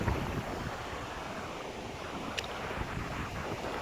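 Strong wind gusts across an open farm field under a cloudy sky with light drizzle, a steady broadband rush and buffeting roar at low level, continuous throughout, with no voices.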